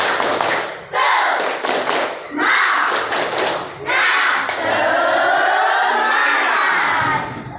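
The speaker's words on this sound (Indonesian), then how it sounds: "sebelum nyanyi kita tepuk semangat dulu, yuk" A group of children performs a rhythmic spirit clap (tepuk semangat) with thumps, claps and shouted chant bursts before singing together, loud and close, in repeated short phrases.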